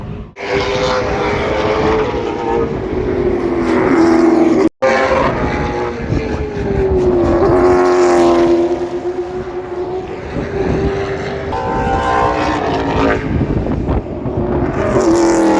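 Fast no-prep street race cars at Old Dominion Raceway, loud engines roaring and whining up through the gears with a brief dropout, nearby and continuous with no talking.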